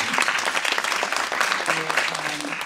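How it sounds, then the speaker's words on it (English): An audience at a university talk on Jewish writing and spirituality gives a round of applause, dense clapping throughout with a voice speaking faintly beneath it near the end. "really deserve that round of applause"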